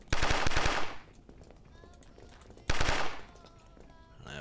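Automatic weapon fire in the zombie survival game Fort Zombie, two loud rapid bursts of shots about two seconds apart, each fading into a ringing tail.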